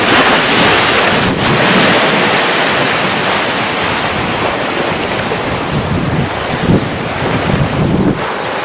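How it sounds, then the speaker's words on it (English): Ocean waves roll in steadily beside a Maui oceanfront resort in the afternoon, a broad continuous wash of surf mixed with gusty wind buffeting the microphone, with no voices. "Look at the blue ocean in the afternoon."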